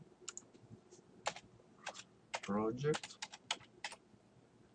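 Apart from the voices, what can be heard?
typing a password on a computer keyboard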